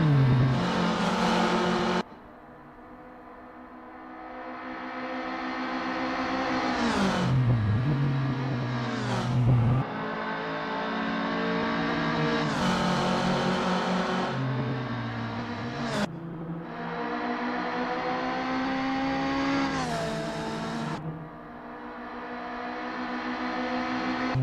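Close, loud engine of a Volkswagen Golf Mk1 'Littlebird' race car on track in Assetto Corsa, revving up through the gears with rising pitch and sharp drops at each shift. No voices are heard.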